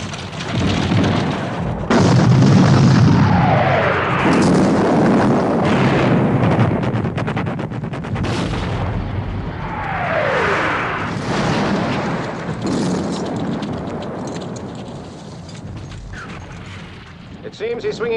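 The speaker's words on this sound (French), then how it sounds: "il est temps de faire donner l'artillerie sur Picton." Artillery cannons firing in the 1970 battle film Waterloo, with heavy booms rolling into a rumbling barrage amid battlefield noise, alongside spoken dialogue.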